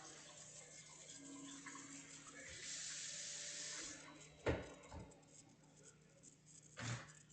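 Tap water runs into a kitchen sink as a cooking pan is washed, a steady faint splash with a couple of sharp clanks of the pan against the basin.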